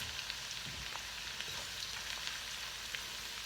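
Onion added to roasted garlic frying in a pan for pinakbet, a soft continuous sizzle and crackle, fairly quiet and even throughout.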